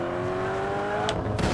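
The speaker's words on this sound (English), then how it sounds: "Right, I'm gonna do a proper drift this time." A car drifting in the Just Cause 3 video game: a steady, loud engine drone with brief, sharp tire-squeal bursts near the end, with no talking.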